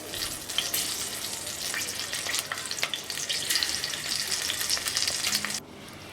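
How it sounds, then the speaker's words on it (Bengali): Green chillies and nigella seeds fry in hot oil with a steady, close hiss and crackle, stirred now and then. The sizzle fades abruptly near the end. "কাঁচা লঙ্কাটা বেশ কিছুক্ষণ ধরে আমি ভেজে নেব"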